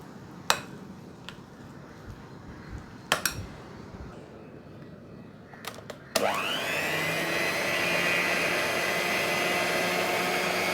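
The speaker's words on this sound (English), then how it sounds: "if you remove it slowly up, you can remove all the batter stuck to the hand blender" A hand blender starts up after a few light knocks and clatters, then whirs steadily and close while mixing chickpea flour plum cake batter with nuts and dried fruit.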